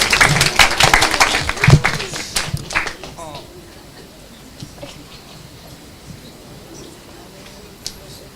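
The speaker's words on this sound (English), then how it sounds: "We get a round of applause." A round of applause at a university launch event, with scattered clapping that is loud at first and then thins out and fades into a quiet room with only faint, occasional taps.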